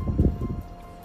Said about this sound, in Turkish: rüzgar sesi muhtemelen size de gelecektir